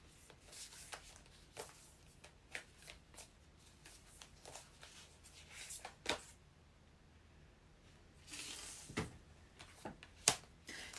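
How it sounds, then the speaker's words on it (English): Tarot cards being shuffled by hand, a soft papery riffling and rubbing that comes in repeated bursts, quiet and close with no talking. "Because every day I'll be shuffling."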